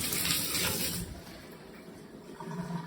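Water from a matte black tub shower faucet set with a 10-inch rainfall head runs in a steady, broad hiss, louder at first, then easing slightly before swelling again near the end.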